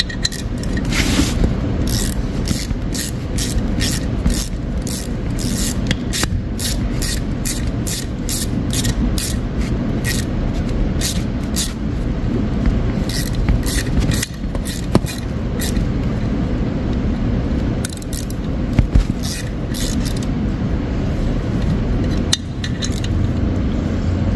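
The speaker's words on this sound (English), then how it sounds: "So doing a little thread chasing, make sure everything's beautiful before I bolt it together." A thread chaser cleaning bolt threads on a 1974 Plymouth Duster three-speed transmission in a shop, a steady run of rapid rasping strokes, close and continuous for the whole stretch.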